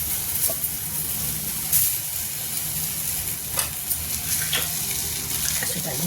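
Potatoes tossed into a hot pan with turmeric on a low gas flame, giving a steady close sizzle with occasional stirring scrapes and light clatter.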